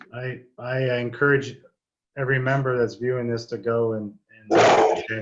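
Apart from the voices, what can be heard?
dog barking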